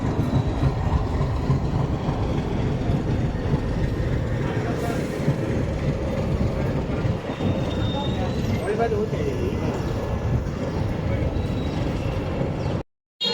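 Passenger train 59558 runs on the metre-gauge Bhavnagar Terminus to Veraval line. It gives a loud, steady rumble and rattle of carriages that continues throughout and cuts off abruptly just before the end.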